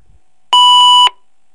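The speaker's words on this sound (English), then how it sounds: "And this will be followed by a beep." One loud answering-machine beep, a clean electronic tone about half a second long, sounds alone against silence.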